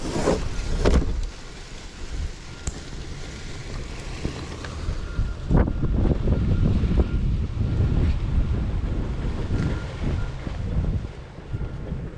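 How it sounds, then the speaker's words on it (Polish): Strong wind blows outdoors at a campervan stop, buffeting the microphone with heavy low rumbles and gusty surges that continue throughout. "To jest ta pora, kiedy zaczęły się spore wiatry."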